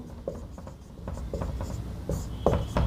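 Chalk or marker scratching on a classroom board during a Hindi-medium Class 12 matrix lesson, in short strokes and taps grouped in quick bursts, close and clear, with no talking.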